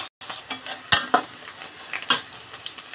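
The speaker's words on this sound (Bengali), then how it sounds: "এখন পেঁয়াজ কাঁচামরিচ দিয়ে দিব। এখন এটাকে আমি ভালোভাবে নেড়ে চেড়ে বাদামি রং করে নেব।" Onions and green chilies stirred and fried in oil with cumin, crackling close up while a spatula scrapes and knocks against the pan in irregular strokes.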